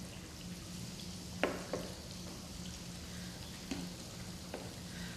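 Steady low sizzle of food frying in a pan, with a few sharp clinks and taps of utensils stirring now and then.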